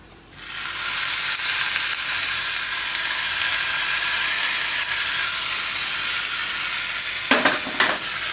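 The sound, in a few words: hot tempering poured sizzling onto cucumber chutney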